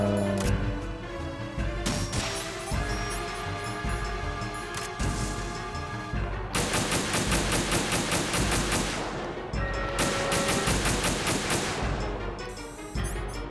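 Gunfire in the video game Metal Gear Solid 2: dense rapid bursts of automatic weapon fire with metallic clatter, continuous and fairly loud, intensifying in sustained volleys with brief gaps between them.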